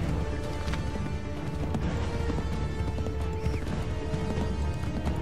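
Horse hooves clip-clopping at a gallop in the Assassin's Creed 3 video game, with whinnies and busy game sound effects mixed in, steady and fairly loud throughout.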